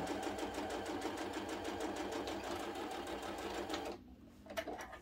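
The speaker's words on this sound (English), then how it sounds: "we are going to sew down that line" A sewing machine stitches a quilt block seam with a rapid, even close-up whirring rhythm for about four seconds, then stops, followed by a few soft handling clicks.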